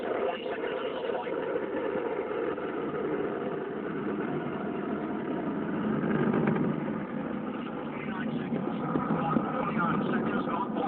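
A rocket's main engine and six ground-lit solid motors roar continuously during launch. The sound is a dense, steady, rumbling wash that swells slightly midway and holds for about eleven seconds.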